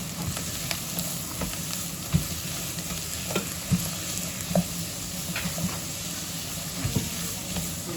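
Capsicum stir-frying in a pan as a pizza topping, with a steady sizzle under it and soft scraping stirs and light clacks of the spatula at irregular intervals, close and fairly quiet.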